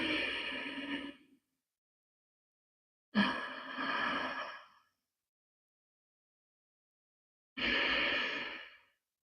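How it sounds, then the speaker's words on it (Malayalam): A person takes three slow, audible breaths through the throat as a thyroid exercise, each a long, close, hissing rush separated by silence. "ശ്വാസം ഇങ്ങനെ എടുക്കുമ്പോൾ ശബ്ദം കേൾപ്പിക്കുക"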